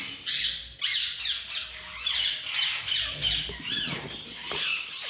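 A cobalt ringneck parakeet gives loud, repeated harsh squawks close by, in a rapid, uneven series with no talking.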